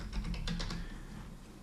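Fingers tap out a short command on a computer keyboard, a quick run of soft clicks near the start fading into faint room hum, quiet and close with no talk.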